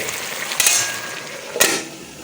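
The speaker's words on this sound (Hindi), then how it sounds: "मीट को थोड़ा पानी दे के फ्राई किया, उसके बाद वो पकने वाला है, इसीलिए अभी डाल दिया बीन्स।" Pork intestine and beans fry in a pan with a steady, close sizzle, broken by two brief louder scrapes or clanks of stirring.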